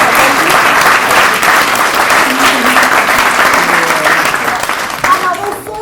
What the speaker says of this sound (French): donc merci de les applaudir